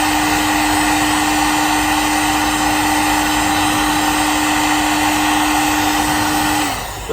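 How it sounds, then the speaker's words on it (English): A heat gun blows a steady, loud whirring stream of hot air onto the metal seat rail area of a Mk7 Ford Fiesta, running continuously and close before switching off at the end. "we're going to heat it up with a heat gun just to try and take some of the edge off"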